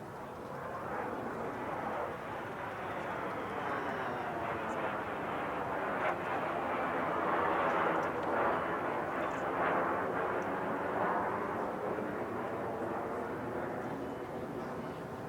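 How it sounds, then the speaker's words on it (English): A Canadair CT-133 Silver Star, the Canadian-built two-seat T-33 jet trainer, flies at a Fleet Week airshow, producing a steady broad jet roar that swells slightly mid-pass and stays fairly distant throughout. "Now a CT-133 Silver Star from Acemaker Airshows."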